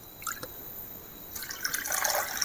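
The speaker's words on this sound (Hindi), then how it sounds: "और इसमें हम 1 गिलास पानी डालेंगे।" A glass of plain water is poured into a pan of melted mixture while making Diwali sweets, a faint dripping start followed by a growing, splashy liquid pour close by.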